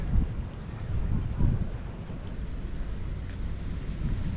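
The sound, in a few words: boat approaching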